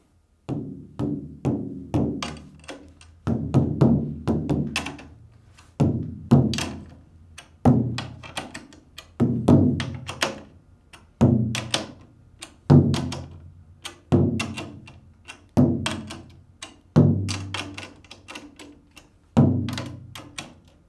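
Repeated close taps on a snare drum head during tuning, struck in short bursts of several hits with brief pauses between, each tap ringing with a resonant tone.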